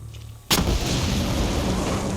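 A grenade explosion in the Far Cry 6 video game hits with a sharp, loud boom, then leaves a long, dense roar of rumbling debris that holds on without fading.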